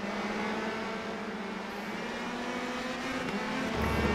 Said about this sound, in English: Little tire spin exit in the corner.